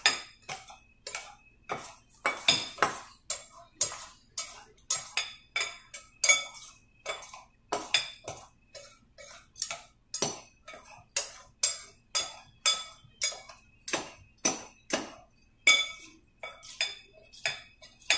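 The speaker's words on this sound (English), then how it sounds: "I'm going to take 2 knives and I'm going to cut the flour into the butter" Two knives scraping and clinking against each other and a bowl while cutting flour into butter for dumpling dough, a steady rhythmic series of close, sharp metallic chinks repeating about twice a second throughout.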